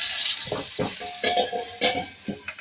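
Potatoes with salt and turmeric fry in a pan, a hissing sizzle broken by several short scraping stirs and clatters close up.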